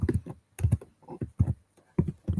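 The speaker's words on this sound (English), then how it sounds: "You can hear me typing, mate." Typing on a computer keyboard, quick clusters of clicky keystrokes in uneven bursts with brief gaps, close and fairly quiet, no voices.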